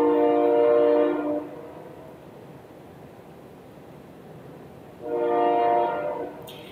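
A train about 100 meters away sounds its horn in two loud, steady blasts, the first lasting about a second and the second about a second and a half, separated by a quiet stretch of distant rail rumble.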